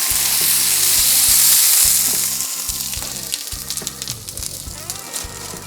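An Impossible Burger patty pressed onto a hot surface, giving a loud, bright sizzle that fades into a softer, crackling fry, with background music playing underneath.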